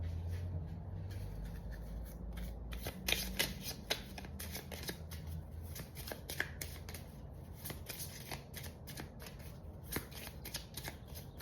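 Tarot cards shuffled by hand, a close, soft continuous riffling with crisp card flicks over a low background hum.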